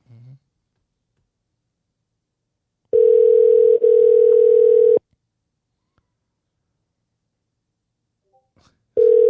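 During a prank phone call, a telephone ringback tone sounds on the line as one steady two-second burst, then silence, then the next ring starting. A faint voice is heard briefly at the start.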